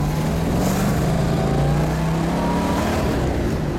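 A 1971 Plymouth Cuda convertible with a Hemi V8 and worn mufflers cruises along a street, its engine a steady loud rumble with a gently rising drone, heard from on board and with no talking.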